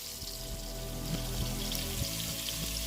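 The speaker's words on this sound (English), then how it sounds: "Leave it for a couple minutes on each side to make sure you get a good browning on each side." Lamb pieces dusted in flour browning in a hot pan for stew, giving a steady, loud sizzle with occasional low thumps and crackles throughout, no talking.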